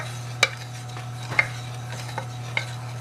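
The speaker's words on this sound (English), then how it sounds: "Now we have to stir the sauce until it thickens." Apple and yam sauce with orange juice is stirred in a pan over low heat, with a few sharp utensil clicks against the pan over a steady low hum, no talking.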